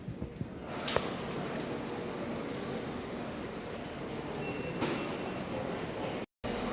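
A CrossCountry Class 170 diesel train stands at a station platform, its low engine idling as a steady rumble, with a couple of faint clanks and a brief dropout near the end.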